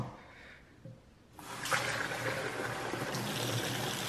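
Water running from a kitchen faucet in a newly built rural house, starting as a faint trickle and then gushing as a steady, close stream for several seconds.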